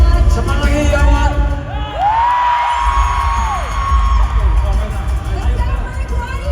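A large crowd at a Christmas party in Araneta Coliseum roars and whoops, a dense loud babble with rising shrill yells and a long cheer swelling in the middle.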